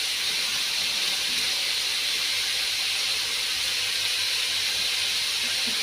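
Two bay leaves dropped into hot oil while cooking, giving a steady, even sizzling hiss that holds at a moderate level throughout with no voices.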